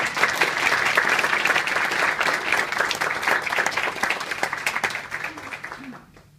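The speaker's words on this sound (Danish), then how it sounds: "når man applauderer, når man lige klapper af musikeren" Sustained audience applause for a musician at a wedding, dense and steady clapping that fades out in the final second.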